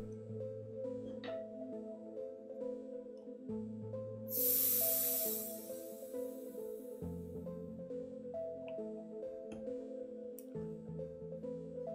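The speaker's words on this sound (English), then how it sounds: "take off the valve cap and press in the middle to check there isn't any air left in the inner tube" Air escapes in a short hiss of about two seconds as the valve core of a Dualtron Mini scooter's rear inner tube is pressed, heard over a quiet background with steady tonal music.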